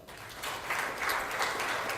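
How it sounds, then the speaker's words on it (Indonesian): Church congregation clapping during a worship service in Bali, a brief steady wash of many hands applauding together at moderate distance, with no voices over it. "Tepuk tangan buat Tuhan."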